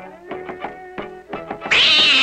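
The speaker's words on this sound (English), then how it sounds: "Look what we got! A tabby cat!" A tabby cat in a cartoon meows several times in a quick, uneven series, and the cries end in a sudden loud burst of harsh noise. No one speaks.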